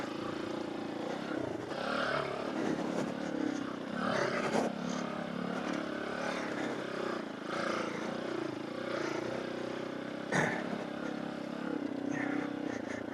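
Tao Tao DBX1 pit bike running on a ride, with a small engine droning and rising and falling in revs, occasional clattering knocks and bumps, and someone talking over it throughout.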